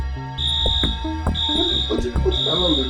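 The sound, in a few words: alarm going off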